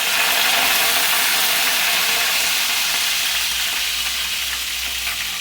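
Cumin seeds and curry leaves dropped into hot oil, giving a loud, continuous sizzle and spatter that stays strong and steady throughout, with faint stirring underneath.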